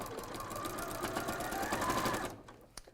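A sewing machine stitches a seam on a fabric bunny's leg, a steady close whirring run that stops abruptly near the end, followed by a brief click.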